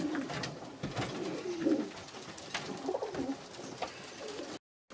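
Zamość pigeons cooing at close range, low soft coos repeating irregularly over a busy loft-like background for about four and a half seconds before cutting to silence.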